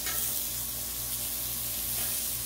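Smashburgers sizzling on a Blackstone griddle, a steady hiss of frying fat that runs unbroken throughout with a low hum beneath, no talking.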